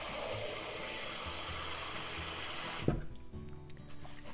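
Tap water runs steadily into a pot of rice being rinsed for a salmon and corn pilaf, a continuous close rush that gives way to softer swirling and sloshing partway through.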